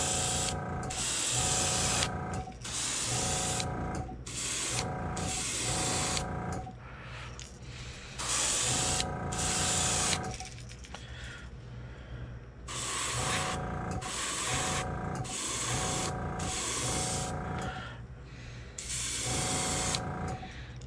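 An airbrush sprays paint onto a shad fishing lure in short repeated hissing bursts, each lasting a second or two with brief pauses between, close and fairly quiet with no talking.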